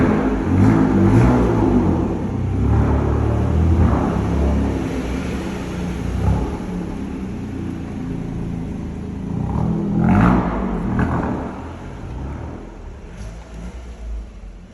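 Toyota GR Yaris cars driving out through a shutter door, a low rumbling engine drone that swells and fades as the cars pull away, moderately loud and gradually receding.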